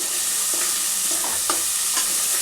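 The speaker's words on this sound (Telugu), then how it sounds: "ఇది మంచిగా ఫ్రై అయినాక ఇప్పుడు చికెన్ వేసుకున్నాం" Turmeric and spices fry loudly in hot oil in a pan, a dense close sizzle with a few sharp stirring scrapes, no talk, while making a Telangana-style bobbarlu chicken curry.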